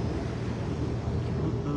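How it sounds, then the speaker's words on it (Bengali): A boat pulls away from the waterfront at Alexandria Waterfront Park, giving a steady low motor drone mixed with wind buffeting the microphone, continuous and moderately distant. "ওই যে বোট ছাড়তেছে"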